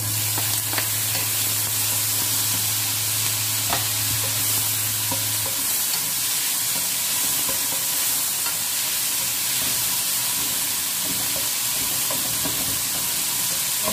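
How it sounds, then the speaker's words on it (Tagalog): Chopped tomato sizzles and is stirred in a hot pan while a prawn and green mango curry is cooked, with a steady frying hiss and scraping stir sounds running throughout and no talking. "At isunod na rin natin yung ating chopped tomato."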